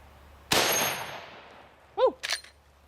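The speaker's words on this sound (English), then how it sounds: "This is a faster bullet, 325 grains. Looks like a little missile out of this 4570." A .45-70 rifle fires a 325-grain bullet at a titanium target, one sharp loud report with a decaying tail, followed about a second and a half later by brief ringing impact clangs.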